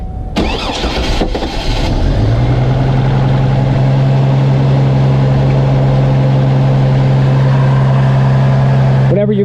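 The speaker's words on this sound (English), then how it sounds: "Whenever you clean a math, your engine will always take a second to start back up like that." A GMC Envoy with a rough idle cranks after a cleaning, takes a moment to catch, then settles into a steady, loud, close idle for several seconds.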